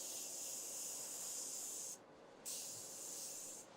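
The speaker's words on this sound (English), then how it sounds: "I'm just going to take a little bit of spray all through the face as well." Cosmetic setting spray mists over a made-up face in two steady hissing bursts with a brief pause between them, close and fairly loud, with no talking.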